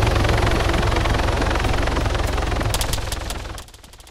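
Helicopter in the ARMA 3 military game, a loud close rotor thump with rapid gunfire bursts coming in toward the end before the noise drops away.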